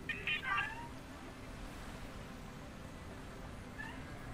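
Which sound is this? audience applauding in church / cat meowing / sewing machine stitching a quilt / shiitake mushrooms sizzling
cat meowing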